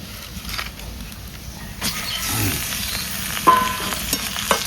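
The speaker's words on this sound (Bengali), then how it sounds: "চিকেন দিয়ে পেঁয়াজ সুন্দর করে কষিয়ে নেব" Chicken pieces and half-browned onions sautéing in a pan over spices, a steady sizzle with scraping stir strokes and a few brief clinks, no talking.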